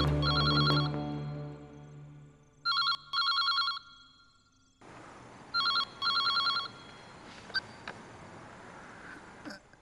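Telephone bell rings in three bursts of repeated trills, loud and close, with quiet gaps between and a brief low tone near the start.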